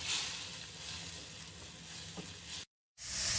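Large onion paste roasting in a pan for chicken kaleji masala, a soft steady sizzle with faint stirring, broken by a brief silent gap before the frying hiss returns brighter.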